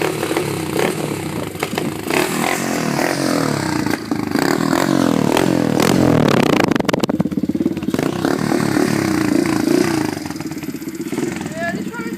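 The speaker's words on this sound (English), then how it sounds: "Yeah, this one is a loud bike. It's got a big more exhaust on it." A 125cc Pit Pro pit bike fitted with a big exhaust runs loud and close, its engine revving up sharply and holding high for a few seconds before dropping back, with a voice speaking over it.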